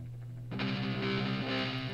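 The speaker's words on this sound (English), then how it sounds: "This is post-pan with echo." A recorded audio track in Logic Pro X plays with panning and an echo effect, starting as a low hum, then opening into a fuller, sustained distorted tone with trailing repeats.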